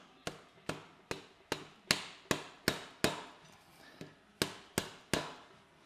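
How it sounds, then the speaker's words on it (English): Sharp metallic hammer taps drive Ackerman kit pieces onto a tie rod end on a 1957 Chevy truck restomod, about a dozen evenly spaced close strikes with nothing else heard. "I'm just going to tap these on to the tie rod end and weld the other side."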